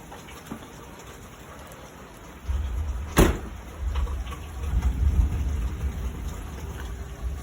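Steady rain falls on surfaces outdoors, with a single sharp crack near the middle followed by a low rolling rumble of thunder that lingers under the rain.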